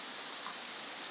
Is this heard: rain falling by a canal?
yes